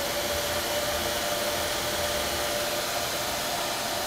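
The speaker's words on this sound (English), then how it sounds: "You can hear the laser fans cranking up because the laser tube is getting hot." Steady broadband whoosh of a laser cutter's cooling fans ramping up as the laser tube heats after a three-minute cut of an airplane part, loud and continuous with a faint steady tone, no talk.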